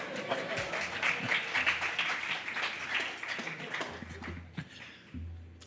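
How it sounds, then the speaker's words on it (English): Applause at a panel event on liberal democracy, scattered claps that build into a moderate wash, then thin out and fade, with some talk and low rumbling noise beneath. "Pause here for applause."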